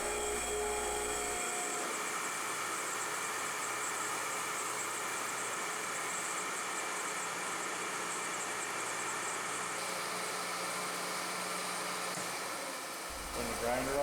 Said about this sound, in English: Turn the grinder off.